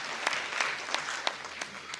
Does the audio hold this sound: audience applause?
yes